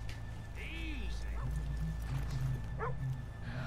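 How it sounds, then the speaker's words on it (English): Horse hooves clop in a western video game, a soft rhythmic series mixed with dog yips and brief animal calls over a steady low game hum. "Let's leave the horses here off the main drag."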